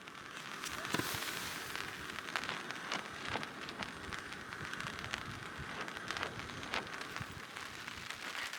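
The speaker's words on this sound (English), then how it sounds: "It's just pretty steady drizzle on the tarp." Steady patter of light drizzle on a taut tarp, a dense crackling hiss with scattered sharper drops throughout.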